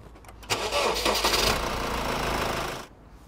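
A 3.2 litre Mitsubishi Pajero diesel engine being started with a jump starter: a brief crank, then the engine catches and runs loudly and roughly for about two seconds before the sound cuts off.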